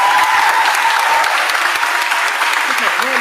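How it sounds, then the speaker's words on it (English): Audience at a fire department gathering announcing the end of a strike breaks into loud, dense applause, a steady wash of clapping throughout. "Can you give them a round of applause?"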